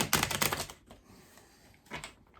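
Tarot cards are shuffled in quick bursts of crisp riffling flutters, a flurry at the start, a pause, then a shorter burst, close and fairly soft.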